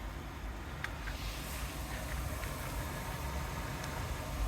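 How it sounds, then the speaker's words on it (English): A 2017 Nissan Juke 1.6 Tekna XTRON petrol engine idles quietly and steadily, a low continuous hum with no one speaking over it. "Engine's running throughout the video"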